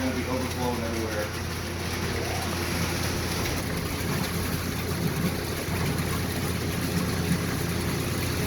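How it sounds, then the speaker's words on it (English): An AST bead filter pump runs with a steady mechanical hum and rushing water while the filter refills after a back-flush, continuous and fairly close, with a person talking over it. "And then we turn back on the pump immediately."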